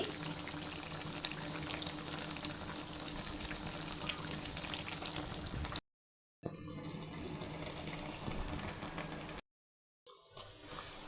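Pangas fish curry with bottle gourd bubbles steadily in a pot over low heat, a close, continuous boiling and simmering sound broken by two short silent gaps, with no talking.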